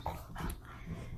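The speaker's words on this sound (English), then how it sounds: "if you hear my dogs in the background, they're playing and being pains in my asses." Dogs playing indoors in the background, a short burst of growls and yips at moderate volume with no speech over it.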